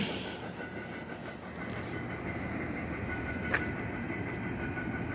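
A grain train rolls past at White Sulphur Springs, West Virginia, with a steady close rumble of rail cars and wheels, faint clicking and a brief sharp squeal near the end.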